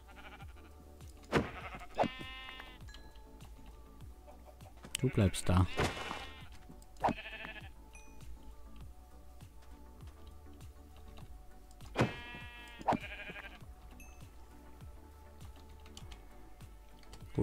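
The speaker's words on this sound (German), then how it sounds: "Das sind Schafe." Sheep bleating in the video game Minecraft at a large village: a few short bleats in separate bursts over soft keyboard typing, with someone speaking briefly.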